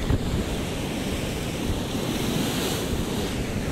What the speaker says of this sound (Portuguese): Está mesmo bué de vento.